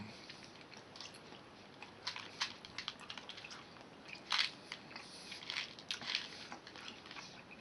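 Someone chews a chewy chocolate snack during a taste test, soft crunchy bites and wet mastication clicks close to the mic, faint and irregular, with no talking.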